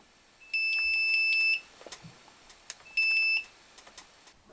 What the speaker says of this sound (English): That is your stall warning horn with a P0 buzzer.